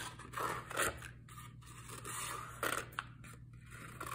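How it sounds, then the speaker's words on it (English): Scissors cutting out paper for a Van Gogh sunflowers craft: a few quiet, close snips and scraping slides over a low steady hum, with no talking. "you're going to get your scissor"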